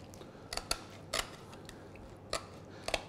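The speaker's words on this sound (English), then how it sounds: "Put the scissors in, I'm going to cut either side of the central bone," Scissors snip along either side of the central bone of a plaice in a series of sharp, close clicks and crunches, irregularly spaced with quiet gaps between.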